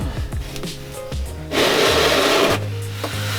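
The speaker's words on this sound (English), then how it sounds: "I'm just gonna go ahead and clean all this excess oil off of here" Rag soaked in brake parts cleaner rubbed over oily metal on a 2019 RAM 1500 with a 5.7-liter HEMI V8, a close, steady wiping scrub with a louder burst of rasping friction midway and faint clinks around it.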